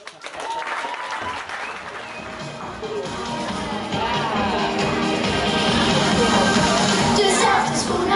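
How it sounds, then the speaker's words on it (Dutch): Audience applause at a school farewell evening: clapping starts abruptly and swells into a broad, dense crowd ovation that grows steadily louder and keeps going throughout. "Geef ze een hartelijk applaus"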